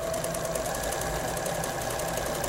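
Sewing machine running steadily on a pin stitch program, a close, continuous mechanical whir with rapid rhythmic needle clatter and no pauses.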